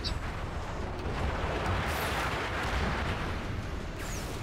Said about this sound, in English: Just shoot like crazy.